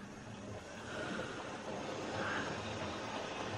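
A salvaged Hornby model train set runs along its rails, a steady low rumble and faint rolling clatter that swells slightly partway through, quiet and close, with no talk.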